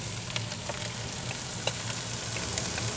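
Onions and chilies sizzle in hot, lightly smoking olive oil on a grill, a steady close crackle with scattered small pops and no talking.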